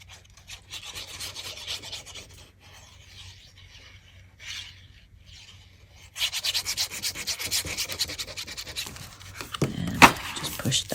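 Paper is rubbed and pressed down along a folded flap of a multi-pocket paper craft, giving soft rasping swishes in bursts that get louder and denser in the second half.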